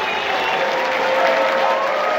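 Applause rolls through the stands at a New Zealand versus Ireland rugby match, a loud, sustained crowd roar with scattered cheering and no distinct voices on top.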